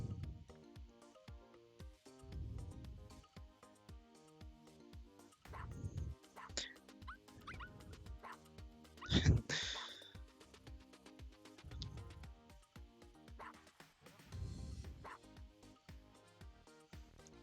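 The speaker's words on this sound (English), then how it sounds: "You play as a dog and you walk around." A cartoon dog in the Walkies mode of the video game Dragalia Lost gives repeated short barks and yips over looping game music. Scattered talk is heard, and one yelp stands out louder than the rest.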